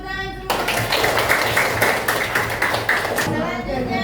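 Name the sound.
classroom applause, students clapping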